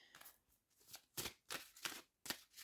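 Tarot cards are shuffled by hand at close range, a run of quick papery riffles and slaps in irregular bursts, quiet overall with brief pauses between each pass.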